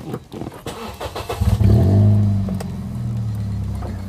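Toyota All New Limo 2014, a former Bluebird taxi, cranks briefly and then starts, settling into a steady close idle after a few clicks and handling noises.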